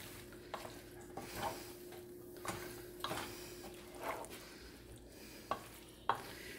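Wilted cabbage is stirred around a pan, with soft scraping strokes and a few sharper utensil clicks against the metal over a low steady hum, close and fairly quiet.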